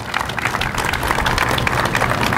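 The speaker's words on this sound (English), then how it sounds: "John, if we can give him a round of applause." Dense, sustained applause from a crowd gathered at a construction hiring celebration, loud and continuous with a rapid mass of overlapping claps filling the whole stretch.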